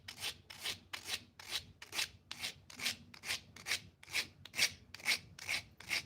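Sandpaper of about 100 grit rubs an edge by hand in quick, even back-and-forth strokes, roughly fourteen soft scratchy swipes in steady rhythm, close and quiet.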